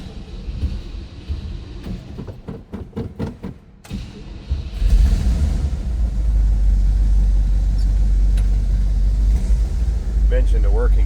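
A 1956 Cadillac Eldorado Seville cranks over in a rapid series of starter pulses for a few seconds, then catches and settles into a loud, deep, steady idle rumble close by.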